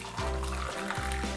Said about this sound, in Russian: Наливаю 3 кружки воды.